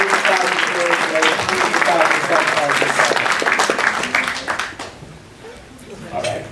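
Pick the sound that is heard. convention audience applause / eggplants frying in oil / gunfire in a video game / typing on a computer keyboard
convention audience applause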